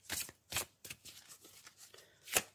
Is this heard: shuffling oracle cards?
yes